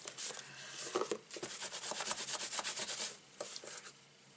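A Swiffer cloth wipes over a craft die with fun foam, making repeated close, dry rubbing strokes in quick uneven bursts, moderately loud, with no speech.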